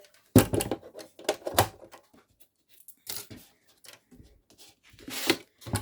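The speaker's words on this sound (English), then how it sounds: "Let me get my guillotine here." A paper guillotine trimmer chops a 5.5 by 12 inch sheet of scrapbook cardstock: a sharp blade clack, then several dry slicing and clacking strokes in bursts with short pauses between, close and fairly loud.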